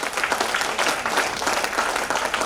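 An audience at a corporate nutrition business meeting claps in a short, dense burst of applause, close and even, lasting a couple of seconds with no voices over it.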